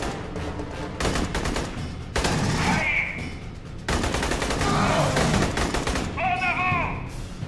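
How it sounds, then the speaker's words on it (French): Automatic turret and other weapons firing in a sci-fi shooter game, Aliens: Colonial Marines, with dense rapid bursts of gunfire and electronic game effects, loud and close throughout. "Il y a une tourelle automatique là-bas, d'accord."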